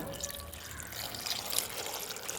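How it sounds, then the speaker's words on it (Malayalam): Water pours steadily into a metal pressure cooker for a couple of seconds, a continuous close splashing trickle with no talking. "ഇനി കുറച്ച് വെള്ളം കൂടി ഒഴിച്ചു കൊടുക്കുക"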